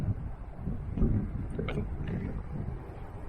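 Strong gusting wind at a Blackpool beach buffets the microphone in a continuous low roar, rising and falling in intensity, close and fairly loud, with no speech.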